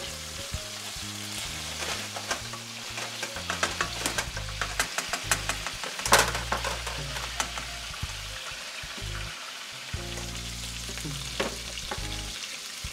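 Salisbury steak patties sizzle and fry as they brown in a pan, a steady hiss and crackle throughout with scraping and clattering as the patties are flipped, close and moderately loud.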